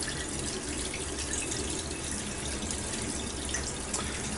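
Water draining out of a WonderWash portable hand-cranked washing machine, a steady close trickling and splashing flow with no voices.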